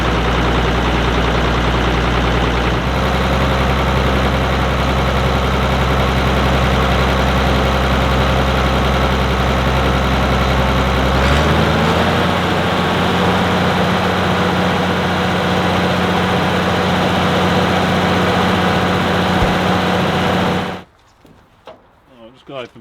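A Ford TW25 tractor idles while warming up, a loud, steady low diesel tick-over that drops to a lower, settled idle partway through before cutting out, with a voice talking over it.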